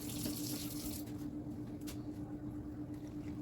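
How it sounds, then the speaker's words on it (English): Water pours into flour in a bowl for focaccia dough, a soft running trickle that tapers off after about a second, leaving faint splashes and quiet room noise. "I'm gonna pour my water in, and I have about 1 1/3 cups of water."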